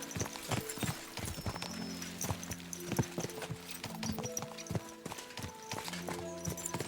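Horse hooves clip-clop in a quick, steady rhythm on a hard surface, close and continuous, with several overlapping hoofbeats, from the video game Kingdom Come: Deliverance II.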